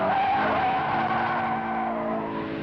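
A Renault R8 Gordini skids through a corner with its rear sliding outward, a sustained, loud tire squeal with steady engine tone underneath, wavering slightly in pitch throughout.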